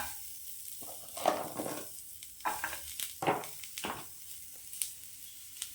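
Onion dropped into oil fries in a pan, a quiet sizzle punctuated by several soft stirring scrapes in an irregular rhythm, close by and with no one speaking.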